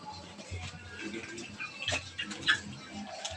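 Newborn piglets eat rice with quick, close smacking, chewing and ticking mouth noises and little patters of food, while a voice talks quietly nearby.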